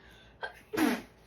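A single sneeze: a short sharp intake of breath followed by a loud, explosive burst, close by and alone.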